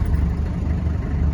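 A 1986 Land Rover 90 with a naturally aspirated diesel engine idling, a steady low rumbling chug heard close by and alone, without much variation.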